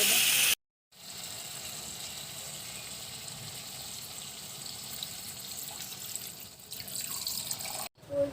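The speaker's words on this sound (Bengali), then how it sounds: "এবার একটু সামান্য পরিমাণে গরম উষ্ণ গরম জল" Warm water pours into a pan of simmering chicken curry with a steady, close hiss that runs for several seconds, then cuts off briefly, with no talk.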